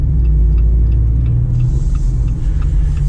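A Jeep Wrangler Unlimited 392 with its Hemi V8 rumbles while driving on the road, a loud, deep, continuous low growl heard from inside the cab with no talk.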